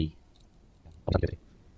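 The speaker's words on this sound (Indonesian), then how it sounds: "Keyboard." Keyboard keys clicking in a short burst near the end, close and moderately loud, following a quiet stretch while a person talks at a computer.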